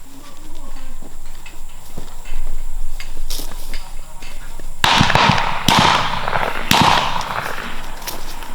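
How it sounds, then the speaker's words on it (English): Three loud shotgun blasts ring out in quick succession during an outdoor dove hunt in Alabama, each a sharp crack with a trailing echo, following a stretch of quieter ambience and talk from the hunters. "Oh, good shot, Tyler."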